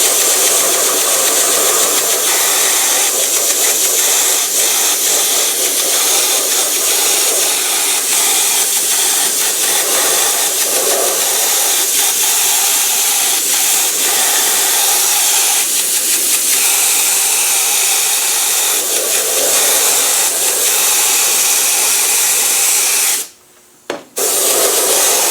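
A paint spray gun with its volume fully open hisses in a loud, steady rush, used while painting a repaired wiper motor cover, and cuts off briefly near the end.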